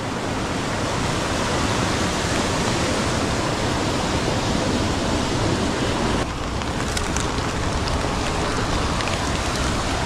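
A mountain creek rushes into a tunnel beneath it, a loud, steady broadband roar of flowing water that lasts throughout with no let-up and no voices.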